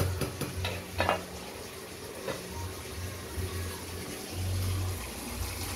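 Bottle gourd frying in a pan on the stove, with soft steady sizzling, occasional stirring scrapes and faint clinks, and a brief low rumble near the end.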